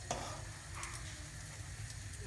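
A ball of sfenj dough fries in hot oil, a soft, quiet sizzle with a few faint clicks and scrapes, no talking over it.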